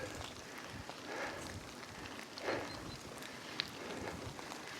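Rain shower falling outdoors during a bikepacking trip in Slovakia, a steady soft hiss of drops on surfaces, fairly faint and continuous with no voices.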